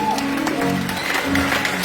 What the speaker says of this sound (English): Brother Ake, a big round of applause